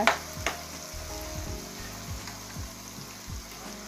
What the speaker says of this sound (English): I'm gonna fry this side as well